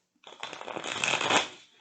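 A fresh tarot card deck straight out of the box is riffle-shuffled once, a crisp papery ripple that builds over about a second and then trails off, with no talk.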